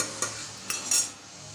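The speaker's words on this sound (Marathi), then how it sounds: "कुकरमध्ये मी आता इथे पाहून वाटी दलिया छान भाजून घेत आहे" Broken wheat is dry-roasted without oil in a pressure cooker, a spoon stirring and scraping the grains in a few short, quiet strokes with a soft rustling texture and no talk.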